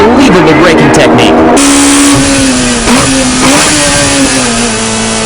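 The TRD Toyota Hachiroku race car's engine screams at high revs on track, shifting pitch through gear changes under a commentator's loud, continuous talk.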